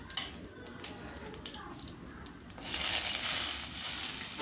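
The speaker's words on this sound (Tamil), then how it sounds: "இப்போ வெங்காயம் நம்ம நல்லா வதக்கணும்." Onions sizzle in hot oil in a pan for a South Indian okra curry, quiet crackling at first and then a louder, steady frying hiss in the last couple of seconds.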